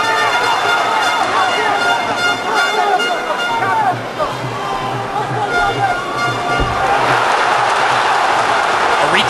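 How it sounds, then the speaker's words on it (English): A boxing crowd roars and cheers at a Khan versus McCloskey fight, with an Irish contingent loudly excited; dense sustained crowd noise and applause fills the arena while a commentator talks over it throughout. "tremendous excitement from the Irish contingent in the crowd"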